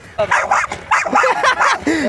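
A female dog barks and yips in quick, excited bursts, close by, with a few whimpering notes mixed in, on the Konkan coast.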